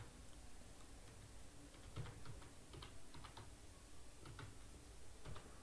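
Password being typed on a computer keyboard in a quiet room, faint scattered key clicks in short bursts against a low background hiss, no talk.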